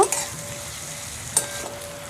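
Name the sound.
frying spices with onion and garlic in a pan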